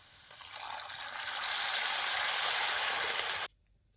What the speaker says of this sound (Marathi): त्यात पाणी वाटायचं